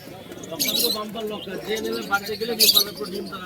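Pigeons at a weekly bird market give low, soft cooing calls with a couple of brief bright chirps, heard close amid a busy background with people talking.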